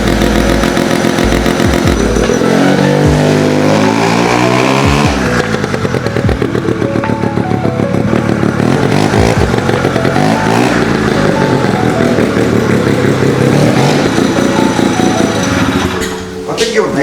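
A small supercharged minibike engine revs hard and loud, its whining pitch sweeping up and down repeatedly for the whole stretch, with voices underneath.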